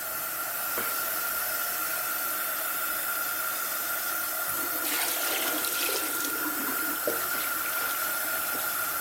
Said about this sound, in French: Troisième étape, on ajoute 3 litres d'eau.